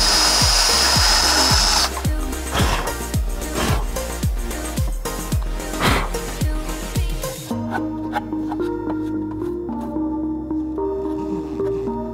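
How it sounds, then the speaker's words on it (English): A power tool with a small sanding drum knocks sharp edges off a part during an FRS LS engine swap, grinding in rapid repeated strokes, loud and close, then a quieter steady whir near the end. "So just knocking the sharp edges off with a little sanding drum."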